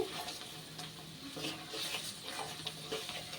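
Ground chili, cumin and coriander fried and stirred into a spice paste in a pan for an elephant foot yam curry with eggs, a soft steady sizzle with light scraping strokes, close and fairly quiet, no talking.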